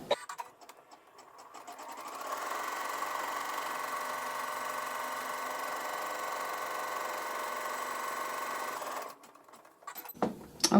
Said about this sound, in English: I'm going to hit the start button, and we are going to go ahead and sew a placement stitch